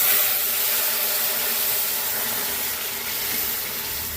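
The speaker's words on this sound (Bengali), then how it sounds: "ভাজা হয়ে গেছে, এখন আমি এটা দিয়ে দেবো ডালটা।" Dal tipped into a hot pan fries with a steady, loud, hissing sizzle that stays even for a few seconds, with no talking.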